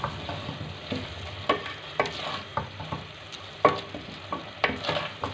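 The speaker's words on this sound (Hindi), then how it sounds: "अब मैंने इसकी भुनाई करनी है नॉर्मल आंच पे रख के।" Minced beef keema fries over medium heat while being stirred, a continuous close sizzle punctuated by regular, sharp scrapes and knocks of a spoon against the pan.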